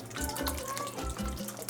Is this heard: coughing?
no